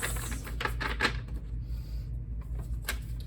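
Soft, quick riffling and flicking of tarot cards being shuffled in short bursts, close and fairly quiet against a hushed room.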